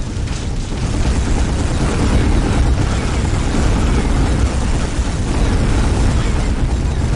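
A reactor core overloads and explodes in the Warhammer 40,000 Dawn of War video game, a loud sustained roaring blast with dense rumbling debris noise that fills the whole stretch.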